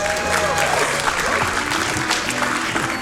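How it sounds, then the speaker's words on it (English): A crowd claps and cheers loudly in dense, continuous applause. "Everybody give a round of applause for Shaggy."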